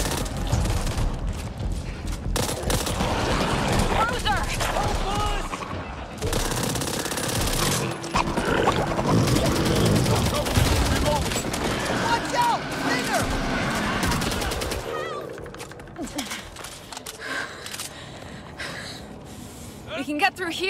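SMG fire in the video game Back 4 Blood comes as long, dense automatic bursts mixed with explosions and other game noise, followed by a quieter stretch with a few scattered shots. A voice speaks over part of it.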